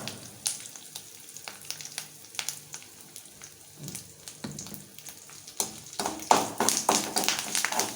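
Spices and asafoetida tempering in hot oil for spicy kozhukattai, a soft crackling sizzle with scattered sharp pops and taps that grow busier and louder toward the end, no talking.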